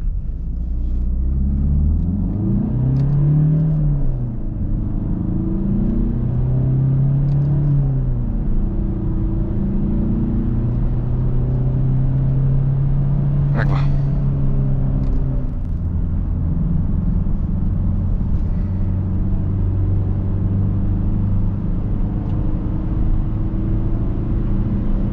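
A 2011 Peugeot 508 SW with the 1.6 e-HDi 112 HP diesel accelerates hard from a standstill toward 100 km/h, engine rising and dropping through several gear changes as heard from inside the cabin, with no talk.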